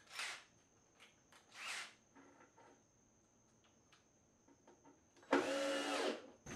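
A power drill pre-drills and drives screws into a wooden steam bending box, buzzing in short bursts, two quick ones then a longer, louder run, with quiet clicks and handling between.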